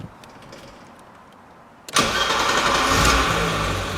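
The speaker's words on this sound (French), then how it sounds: "Le 6 cylindres en ligne." A 1988 BMW 520i inline six-cylinder cranks and catches, the engine bursting into a loud, close rumble after a quiet lead-in, then settling into a steady, full-bodied idle.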